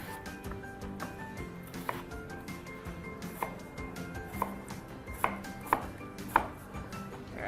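Knife chopping a potato on a cutting board for soup, a series of irregular sharp taps, a few louder knocks standing out over a steady kitchen background.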